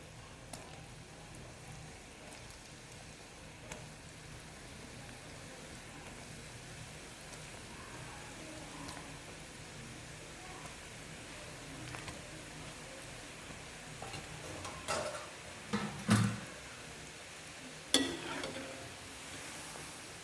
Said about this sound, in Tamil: குலோப் ஜாமுன் பொறிச்சு இதில் போட்டுடலாம் நம்ம இந்த மீடியம் ஃப்ளேமில்